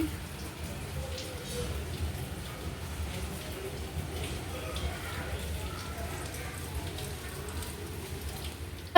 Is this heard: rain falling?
yes